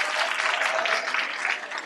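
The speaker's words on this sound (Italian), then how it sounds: "vorrei un applauso" Audience at a school talk show event claps steadily, a dense, even wash of applause at fairly close range with no voices over it.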